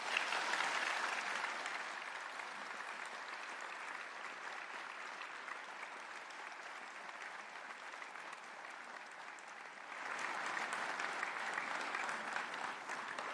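A graduation ceremony audience gives a long, dense round of applause, a continuous roar of many hands clapping that dips slightly midway and swells again toward the end, with no talking over it.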